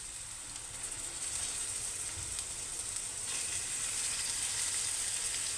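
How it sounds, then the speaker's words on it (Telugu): Prawns frying in a pan with ginger paste give a steady, close sizzle that swells slightly partway through and holds continuous, with no talking. "ఇప్పుడు ఇవి రొయ్యలు వేసుకోవాలి."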